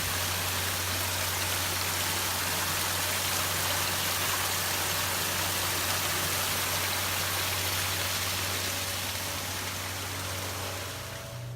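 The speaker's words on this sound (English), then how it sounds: "Still a lot of good water runoff." Spring runoff stream flowing along a forest trail in Prentice Cooper State Forest, a steady broadband rush of water that stays constant and fairly loud throughout, with no voices.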